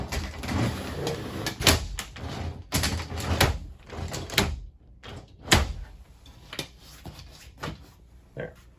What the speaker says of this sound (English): So if you do close it completely, you can kind of hear that click.